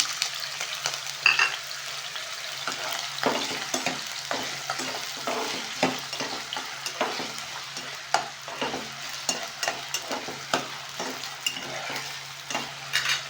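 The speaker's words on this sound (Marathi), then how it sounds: "आता आपण याच्यामध्ये मिरची घालून घेऊ बारीक केलेला बटाटा तो घालून" Green chili and finely chopped potato sizzle steadily in hot oil in a pan, with repeated scraping stirs of a spoon throughout, close and fairly loud, no talking.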